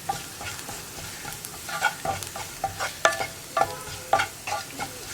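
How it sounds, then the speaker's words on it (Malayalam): Chili powder fries in oil in a pan for carrot and raw banana mezhukkupuratti while a spoon stirs it, giving a low steady sizzle under repeated scraping clinks that come roughly every half second. "ഇനി മുളക് പൊടി ഒന്ന് കുക്കായി വരുന്നത് വരെ 1 മിനിറ്റ് ഒന്ന് ഇളക്കി കൊടുക്കുക."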